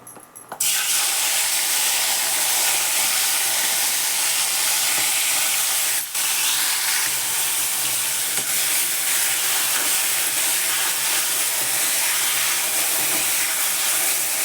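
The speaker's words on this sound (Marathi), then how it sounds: "कडक तेलामध्ये हळूहळू गवार तळायला लागते" Cluster beans (gavar) rubbed with salt fry in hot oil with a loud, steady, close sizzle and hiss that holds unbroken throughout, with no talking.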